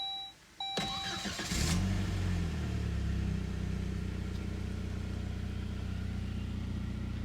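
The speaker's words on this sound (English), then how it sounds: "Let's start the car." A 2001 Saab 9-5 gives a few dashboard chimes, then the starter cranks briefly and the engine catches and settles into a steady, close idle hum that continues to the end.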